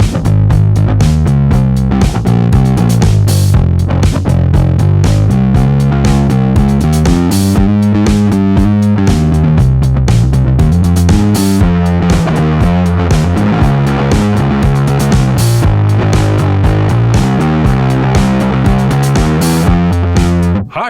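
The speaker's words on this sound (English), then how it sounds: "Let's start by sending a distortion into a fuzz." Electric bass guitar played through a distortion pedal feeding a fuzz pedal, loud and saturated, with a continuous driven riff of thick, gritty low notes running without pause, no talking.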